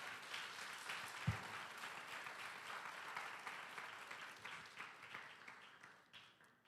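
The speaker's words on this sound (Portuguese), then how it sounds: "Dá um aplauso bem forte ao Senhor" A church congregation claps together, a steady dense crowd applause that swells at first and then slowly fades out, fairly distant, with a single sharp thump near the start.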